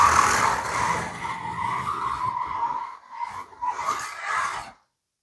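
A 1/24 scale slot car races around a track, its small electric motor whining steadily at a high pitch with brief dips as it corners, loud and close for about five seconds before cutting off.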